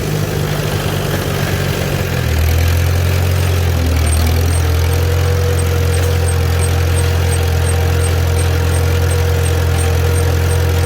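A Farmall B tractor engine running at half throttle in second gear while cultivating, a loud steady droning hum that shifts lower in pitch partway through and then holds constant, with no talk.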